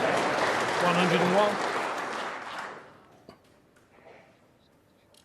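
Snooker crowd at the Masters applauding a century break by Ronnie O'Sullivan, a steady full-house clapping swell that fades out over a few seconds, with a commentator's voice speaking over it.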